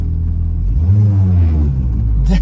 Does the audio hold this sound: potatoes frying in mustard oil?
no